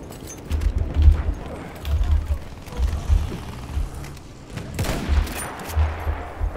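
Gunfire in a video game comes as repeated short bursts of muffled rapid shots, spaced about a second apart, with faint talk in the background.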